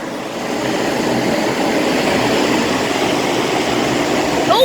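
A powerful air conditioning unit's fan runs steadily outside a building, a loud, constant broadband roar that holds level throughout with no talking.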